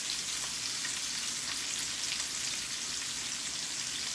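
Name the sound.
apples and onions frying in bacon grease with brown sugar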